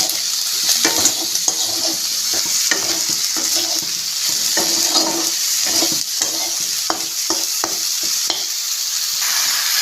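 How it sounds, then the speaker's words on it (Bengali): Prawns frying and sizzling in a pan, stirred with a utensil, giving a steady loud hiss broken by irregular scraping knocks against the metal, with no talk. "এদিকে একটু চিংড়ি মাছটা নাড়া দিয়ে নেব।"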